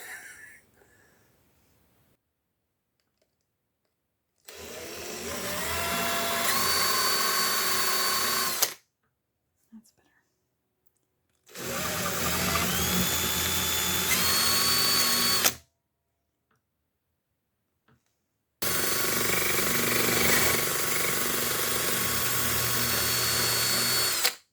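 A power tool fitted with sandpaper, used for home renovation work, whines steadily in three separate bursts of about four seconds each, with its pitch rising as it spins up. Near silence fills the gaps between the bursts.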